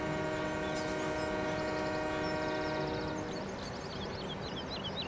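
A train horn toots over steady rumbling engine noise in a farming video game, sounding several drawn-out tonal blasts in the first few seconds before fading into rolling background hum, with no talking.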